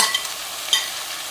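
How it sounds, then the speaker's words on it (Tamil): Prawns and cut ridge gourd sautéing in a pan for a prawn gravy, a bright continuous sizzle with a couple of quick stirring scrapes, close and fairly loud, no voices. "இப்போ இந்த பீர்க்கங்காவும் இறாவும் நல்லா வதங்கி வரட்டும்"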